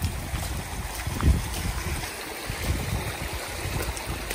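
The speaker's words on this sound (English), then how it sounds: "The whole trail is just a river, and it's freezing cold water." Freezing cold water runs down a hiking trail like a river, giving a low, churning rumble with gusty wind buffeting the microphone.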